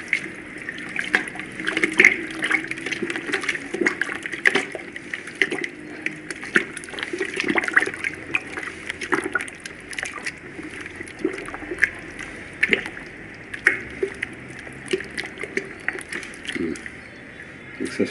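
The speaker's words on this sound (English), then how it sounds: "you thoroughly mix the solution." Panchagavya liquid solution being stirred in a bucket, a continuous close sloshing and swirling of water with small splashes and trickles.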